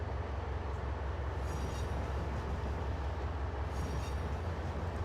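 Trains run in the video game Trainz Simulator 2, giving a steady rail rumble with brief faint squeals and clatter, quiet and continuous with no voices.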